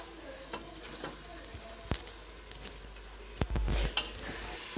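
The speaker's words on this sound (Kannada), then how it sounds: "ಇದನ್ನು ಒಂದು ನಿಮಿಷ ಹಾಗೆ ಫ್ರೈ ಆಗೋದಕ್ಕೆ ಬಿಡ್ತೀನಿ" Rice with spiced vegetables and oil fries in a pan, a soft steady sizzle beneath occasional sharp scrapes and taps of a stirring utensil, growing briefly louder near the end.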